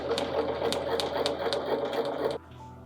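A sewing machine stitching around a pillow ruffle, a steady fast mechanical whirring with rhythmic ticks, close and continuous, stopping abruptly near the end.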